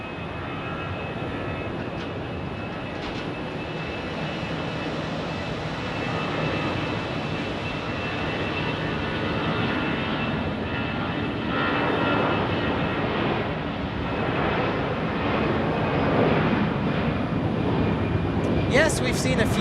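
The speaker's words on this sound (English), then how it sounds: "This is an A319 going to Kansas City." An Airbus A319 jet airliner departs Phoenix Sky Harbor, a sustained broad engine roar growing slightly louder toward the end, with voices talking over it.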